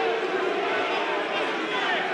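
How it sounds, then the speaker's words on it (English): Restless crowd in a boxing arena during the televised Tyson versus Ferguson fight: a steady, dense roar of many voices murmuring and calling out, with no break. "Crowd beginning to get restless."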